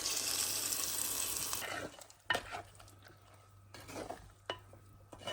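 Masala for a prawn and okra curry sizzles and hisses in a hot pan, followed by quieter scraping and clinks of a spoon stirring against the metal.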